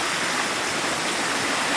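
Small waterfalls along a slowed river produce a steady, even rush of falling water, a continuous broadband hiss with no pauses, close and fairly loud.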